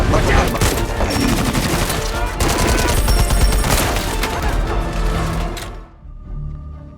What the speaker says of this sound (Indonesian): Jamal menembak lagi.